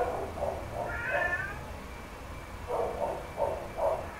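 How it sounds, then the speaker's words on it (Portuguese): A house cat meowing repeatedly in a room, a series of short, fairly close mews spaced through a few seconds, with one longer drawn-out cry, over a low background hiss. "tem um gato doido aí."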